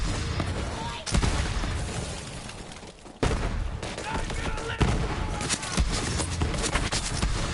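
Dense Borderlands 3 gunfire rattles through a chaotic firefight, sustained bursts with sharp loud onsets and blasts, mixed with game voices and noise throughout.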